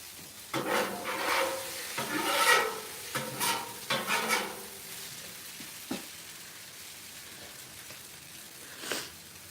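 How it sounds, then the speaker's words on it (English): Rice fried hibachi-style on a hot surface, with close, busy bursts of stirring, scraping and sizzling that ease into a quieter steady sizzle with occasional scrapes. "hibachiing up that rice"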